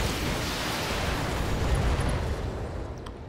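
Mech weapons fire in the BattleTech video game: a sustained, loud, dense roar of blasts and booms that holds steady, then eases slightly near the end, with no one talking.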